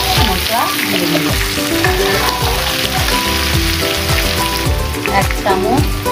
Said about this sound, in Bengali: হালকা করে এগুলো ভাজি হয়ে গেছে, এখন মশলা দিয়ে দিল।